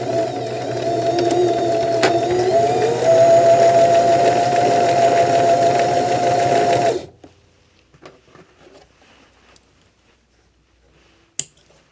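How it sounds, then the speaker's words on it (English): A sewing machine stitches folded fabric in a fast, loud, even whir for about seven seconds, then stops abruptly, leaving near silence broken by a single sharp click near the end. "now you can start sewing the real thing."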